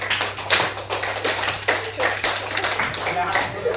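A group clapping in timed bursts during a counted focus exercise, sharp claps landing in uneven clusters at close range over a low steady hum.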